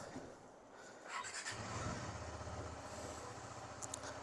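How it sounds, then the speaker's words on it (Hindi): A motorcycle engine cold-starts and settles into a steady low idle, faint and continuous with a slight rumble, after a brief moment of quieter background noise. "चलने से पहले अपने कोल्ड स्टार्ट कर लेते हैं"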